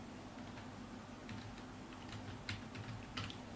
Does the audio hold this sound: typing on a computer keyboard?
yes